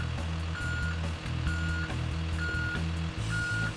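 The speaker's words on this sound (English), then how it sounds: "Slowly back under the trailer until the entire fifth wheel top plate disappears." A semi-truck tractor backs slowly under a trailer, its reversing alarm beeping at an even pace over a steady low engine rumble.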